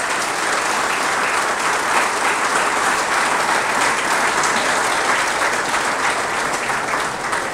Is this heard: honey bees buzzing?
no